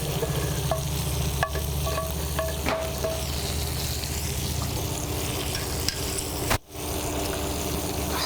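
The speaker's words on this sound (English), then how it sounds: "We're going to stir this up." A steak-pan sauce sizzles loudly and steadily while a utensil stirs it, with a few light scrapes and clinks over the constant frying hiss and a brief dip near the end.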